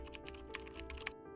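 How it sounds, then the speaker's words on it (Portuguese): Old secondhand typewriter keys struck in a quick, uneven run of clicks and clacks, moderately close and alone, with no voices. "A máquina de escrever que ninguém queria vender."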